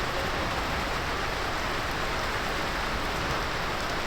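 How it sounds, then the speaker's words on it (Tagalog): Heavy storm rain in Casiguran, Aurora pours down as a dense, unbroken hiss and patter, loud and constant throughout with no voices. "lakas ng ulan, bumabagyo"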